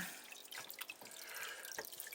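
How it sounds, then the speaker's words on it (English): Water splashes and trickles from the return pump of a 112-liter home aquarium with a background filter and duckweed on the surface, a close, steady gurgle with small drip-like spatters and no talk. "And this is the return pump of the water."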